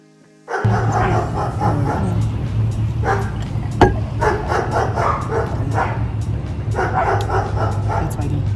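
Dogs barking in an outdoor setting on a day trip at Donner Lake, with repeated yips and barks running steadily through the clip over constant background noise and people talking.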